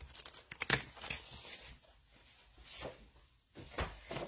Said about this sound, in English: I am going to cut a Misty Moonlight base.